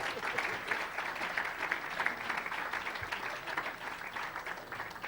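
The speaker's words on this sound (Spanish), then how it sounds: "vamos a recibir con un fuerte aplauso a Reinaldo Benito" Sustained audience applause at a sports forum welcomes the CAI Zaragoza club president, a dense wash of clapping from a moderately sized crowd holding steady throughout.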